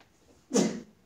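A single short, sharp sneeze bursts out after a quiet pause in a classroom, brief and fairly close.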